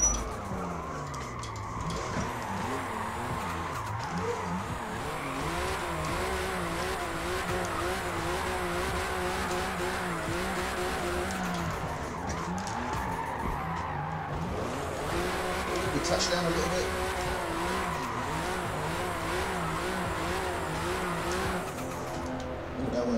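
BMW M2 with a 656 hp turbo engine drifting in the Forza Motorsport video game: a loud, constant engine roar that rises and falls as the car shifts, with tire squeal and skidding woven through the whole run.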